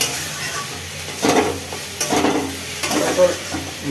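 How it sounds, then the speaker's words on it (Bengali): Spinach with turmeric and salt being stirred in a hot pan, a steady low sizzle with a few scraping strokes of a spatula against the metal, close and continuous. "এবার একটু লবণ দিয়ে দিচ্ছি দিয়ে একটু নাড়া দিয়ে"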